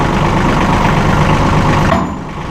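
Tractor engine running loud and close while the 3-point hitch lifts a rotary cutter, a steady rough diesel drone that drops slightly in level near the end.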